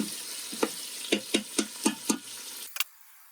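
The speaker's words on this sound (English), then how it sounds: "since the onions are still cooking" Onions sautéing in an Instant Pot, a soft sizzle under a series of sharp stirring scrapes and taps, about eight in an uneven rhythm, close by, ending abruptly in silence.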